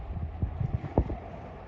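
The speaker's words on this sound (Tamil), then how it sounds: "நல்ல காற்று குளுன்னு அடிச்சுக்கிட்டு இருக்கு." Cool wind at the Berkeley waterfront during the rainy season, a steady broadband rush of wind buffeting the microphone, with a few low bumps and thuds in the gusts, close and continuous.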